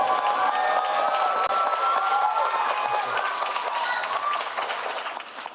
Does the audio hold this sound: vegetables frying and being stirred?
no